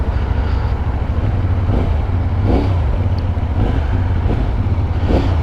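A CFMoto 450 NK motorcycle engine pulling along the road, a loud steady drone with low throbbing harmonics that swell slightly under throttle, mixed with constant wind rush, close and continuous.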